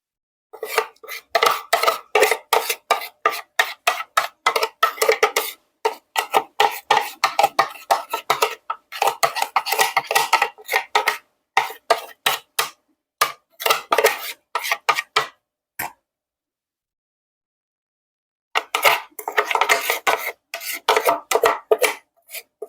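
Chilies ground into a paste for beef and tofu botok, heard as rapid, steady rasping strokes, close and loud, with one brief pause before the grinding resumes.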